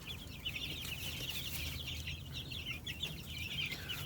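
Young chicks aged two to four weeks cheeping and clucking in a brooder, a continuous chatter of many overlapping high peeps at moderate closeness, with a low hum running underneath.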